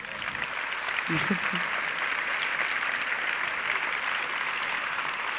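An audience at the Forum Femmes & Challenges 2024 conference applauds steadily for Dominique, a dense sustained clatter of clapping, with a brief spoken thank-you near the start.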